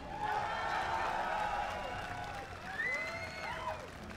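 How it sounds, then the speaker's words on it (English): A crowd at PAX Australia 2013 claps and cheers for two teams after the League of Legends Oceanic Season 3 Championship final, a steady wash of applause under a loud announcer's voice and faint electronic tones. "Give them a round of applause one more time."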